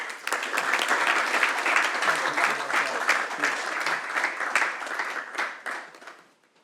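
Polite applause from those attending a council meeting, dense steady clapping from a modest group for several seconds before tapering off into quiet.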